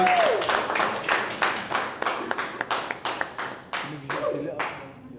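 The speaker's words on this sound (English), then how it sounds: "Give her a round of applause." A small audience claps for a volunteer at a motivational event, a series of distinct, fairly close hand claps with uneven rhythm that thin out toward the end, with brief voices underneath.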